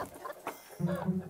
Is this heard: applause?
no